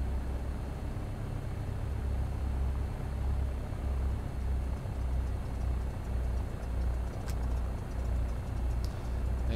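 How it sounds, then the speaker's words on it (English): A Cessna 172 Skyhawk engine in a flight simulator drones steadily with a low, slightly pulsing, uneven throb that hints at sputtering, heard alone as a constant cabin hum. "Again, you can hear the engine sputter."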